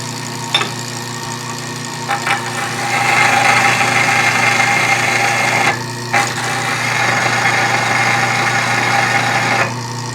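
A restored 1930s Craftsman bandsaw runs with a steady mechanical hum and rattle while its pulley slips, the drone rising in intensity and briefly cutting out twice with a few knocks.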